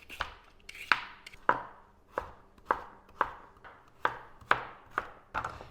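A knife dices onion on a cutting board while prepping a Thai beef curry, giving about a dozen crisp, evenly spaced chops that ring close and clear with no talking.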